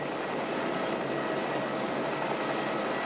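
An aircraft engine drones steadily throughout a scenic flight over a park, a constant loud broadband roar from inside the cabin with no breaks.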